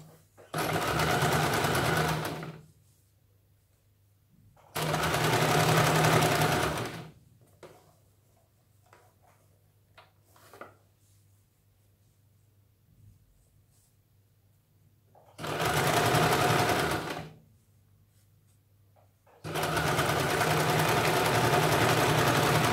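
A sewing machine stitches a folded blouse hem edge in four loud sustained bursts, each a few seconds long, separated by quiet pauses with a low steady hum underneath.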